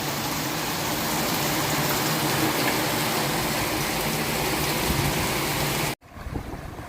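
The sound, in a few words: heavy torrential rain in a village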